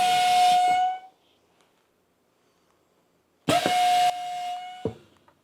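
A press machine making a screened bucket feeding lid gives two loud bursts of steady hiss with a tonal whistle, the first about a second long. A short quiet gap follows, then a second longer burst ending in a thump.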